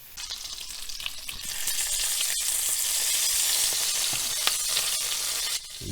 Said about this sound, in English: Now have a listen to the bacon cooking.